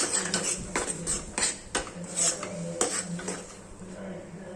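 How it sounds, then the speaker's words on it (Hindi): A ladle scrapes and stirs thick moong dal halwa in a metal kadai, giving repeated sharp metallic clinks and scrapes in an uneven rhythm, close and loud with no speech. "चम्मच की सहायता से निकालना है, यानी कि छुटाते रहना है और फिर हलवे को बराबर ही चलाना है"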